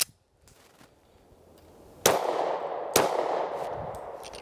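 A Ruger SR40C compact .40 pistol fires two sharp, loud shots about a second apart, each with a brief ringing decay, after a quiet lead-in with faint handling clicks.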